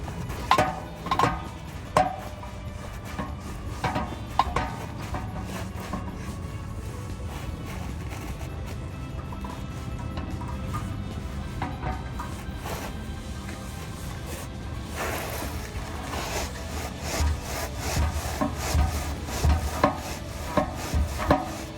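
A hand cutter works slowly through the steel exhaust pipe of a 2019-2022 Chevy Silverado 5.3L for a Magnaflow muffler delete. It gives irregular scraping, ratcheting clicks and knocks, fairly close and moderately loud, with no talking.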